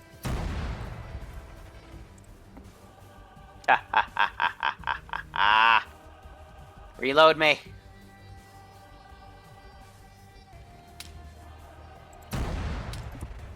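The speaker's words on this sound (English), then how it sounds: "I'm hearing some shots land near me." Artillery shells striking in the Arma 3 military game: a quick string of about eight sharp bursts, then a louder blast a little later, with a voice speaking briefly between them.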